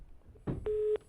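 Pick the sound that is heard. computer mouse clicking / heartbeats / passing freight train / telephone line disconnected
telephone line disconnected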